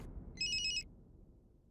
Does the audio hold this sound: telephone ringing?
yes